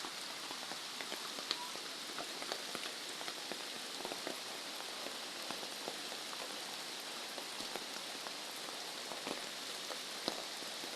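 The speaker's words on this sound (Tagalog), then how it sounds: "walang tigil ang ulan dito sa amin" Steady rain falls on a vegetable garden with sprouting string beans, a dense, even patter of drops with a few sharper close hits, continuing throughout with no voices.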